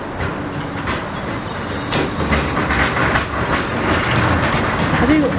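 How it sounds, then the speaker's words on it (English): A tram rolls past over its tracks along a seaside promenade, a steady rumble with rhythmic clicks over rail joints and a faint wheel squeal, fairly close and continuous. "The tram going past there."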